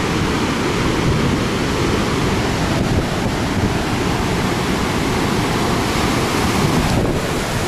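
Sea surf crashes onto the beach at Alanya, Turkey, on a stormy November day, a loud continuous roar of breaking water mixed with heavy wind buffeting the microphone.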